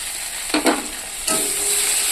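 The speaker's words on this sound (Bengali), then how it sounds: "এবার একটু কষিয়ে নেব।" Onion, garlic, tomato and ginger-cumin paste sautéing in a pan for an egg dish, with two quick scraping stir bursts followed by a steady, close sizzle that continues alone.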